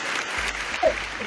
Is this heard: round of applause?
yes